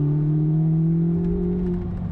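A flat-plane crank V8 engine, Ferrari 458-like, holds a smooth, steady drone that rises slightly in pitch, heard close and loud with no talking.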